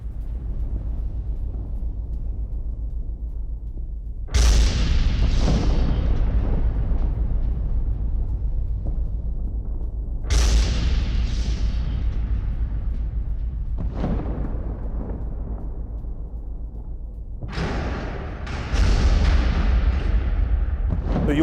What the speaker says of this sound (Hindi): कुराखोवो थर्मल पावर प्लांट पर भीषण बमबारी की है।